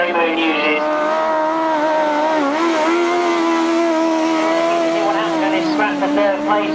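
A grasstrack racing sidecar outfit's engine roars past close by, a loud smooth rising and falling whine with clear harmonics, at a 1992 British Masters qualifier, with a commentator talking over it.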